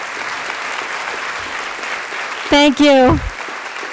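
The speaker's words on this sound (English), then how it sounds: "a special thanks and a massive set of applause, I hope, for Christine Dyke for letting us have her church" Applause from an audience gathered in a church, a broad wash of clapping running throughout, briefly overlaid by a single voiced utterance near the end.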